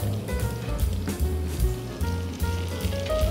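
Breakfast food sizzling across a whole hot griddle set around 375 degrees, a steady crackling hiss with rhythmic low scraping bumps from a spatula flipping pieces, close and continuous.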